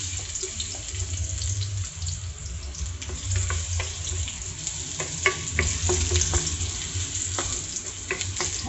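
Garlic frying in oil in a pan (kawali) for squid adobo, with a steady sizzle throughout and scattered clinks and scrapes of stirring, nearby and moderately loud, without any talk.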